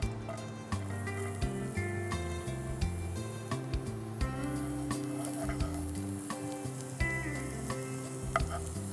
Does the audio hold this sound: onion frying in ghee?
yes